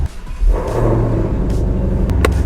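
Ford Mustang Shelby GT350R and GT500 engines crank and catch, then settle into a deep, loud rumbling idle with a few throttle blips, close and up front.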